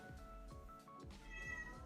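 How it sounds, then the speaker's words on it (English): A pet cat named Ollie meows indoors, several quick repeated meows in close succession with a rising, whiny tone, near but fairly quiet, with no talking over them. "Kitty's going crazy."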